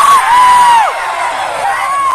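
A crowd of boys shouting together at a programme, one sustained loud collective yell with wavering pitch, close and continuous throughout.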